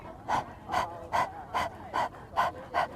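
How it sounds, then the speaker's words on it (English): A person demonstrates dog-like panting as a breathing technique, with seven quick, airy pants evenly spaced, close and fairly soft, with no speech. "start it as like a panting breath, like a dog. So it's like you stick out your tongue and you pant"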